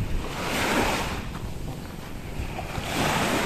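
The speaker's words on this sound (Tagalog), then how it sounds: "Ganda rin po ang dagat dito." Sea waves wash onto a white sand beach, a steady broad surf roar that swells and eases with some wind buffeting the microphone, and no voices.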